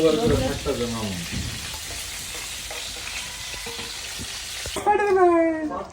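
Pangas fish frying in a pan, a steady hiss and sizzle running throughout, with people talking over it at the start and end.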